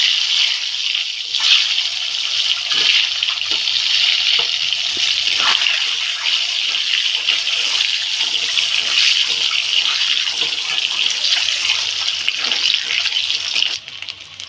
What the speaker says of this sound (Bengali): তেলটা গরম হয়ে গেছে, ডিমটা ভেজে নেব